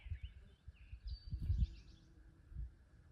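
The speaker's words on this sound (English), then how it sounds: "The birds are singing again." Faint, distant birdsong after a storm on the Appalachian Trail, a few thin chirps and short trilling calls over low rustling and breezy background noise.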